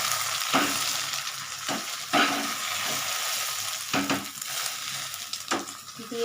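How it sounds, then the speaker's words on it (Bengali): Steady sizzling of an egg frying in a pan, with a few sharp scraping stirs breaking through the hiss; close and fairly loud, no talking. "ডিমটা আমি এই জন্য আলাদা করে ভেজে নিচ্ছি"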